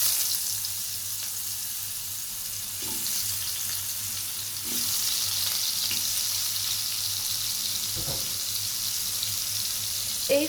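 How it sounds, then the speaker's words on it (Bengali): Potatoes fry in a pan of oil with turmeric and salt, a steady, moderate sizzle heard up close. Occasional stirring scrapes and light clatters break through it, and the hiss swells slightly partway through. "এবার আমি আলুগুলোকে হলুদ এবং লবণ দিয়ে ভেজে নেব।"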